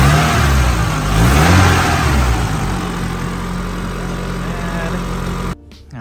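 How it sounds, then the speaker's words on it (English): A Nissan 240SX S13 with a T28 turbo revs loudly up and down close by, engine pitch rising and falling, then settling toward idle before cutting off abruptly near the end. "Go ahead and give it some throttle here"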